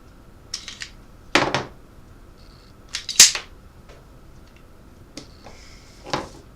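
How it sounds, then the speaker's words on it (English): Sharp, light metallic clicks from the slide of a cheap 1911-style .22 pistol, a few isolated snaps spaced irregularly over several seconds, close and clear with no talk. "It's got a very dissatisfying sound every time the slider acts. Just a little click."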